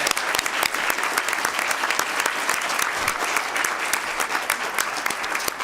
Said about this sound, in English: one more round of applause to everyone who worked on this project.